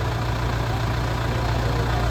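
A steady generator engine idles close by, a continuous low rumble with a constant hum, running alone without any voices.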